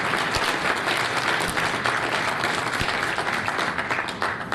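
An audience at a youth parliament breaks into applause: a dense, continuous wash of many hands clapping, loud and sustained, with no pauses.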